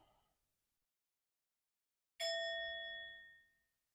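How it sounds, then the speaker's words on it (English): A single bell, rung to open a yoga practice, is struck once after silence and rings out clearly alone for over a second before fading. "So I'll ring the bell"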